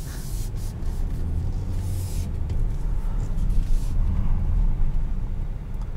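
A 2022 Nissan Pathfinder Platinum with a naturally aspirated V6 on the move, a steady low engine drone and road roar heard from inside the cabin, with no talking.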